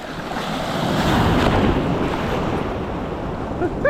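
Steady roar of surf washing in at Vengurla Beach, a broad rushing sound with wind blowing across the microphone, loud and continuous.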